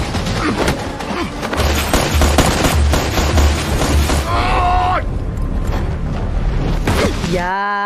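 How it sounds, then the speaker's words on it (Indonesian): Rapid machine-gun bursts and booms from a gunfight in the film Snow Monster 2, loud and dense over several seconds with a voice speaking throughout. "adu tembakan pun terjadi hingga satu persatu pasukan bayaran berguguran"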